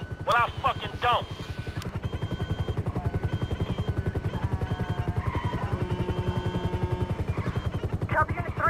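Police helicopter in the video game Grand Theft Auto V, a steady low rotor thrum running through the whole stretch under game sound effects, with voices talking briefly at the start and end.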